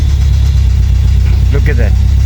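A Renault 5 engine with new spark plugs runs steadily and close up, its low rumble continuous for the whole stretch, while a voice speaks briefly near the end.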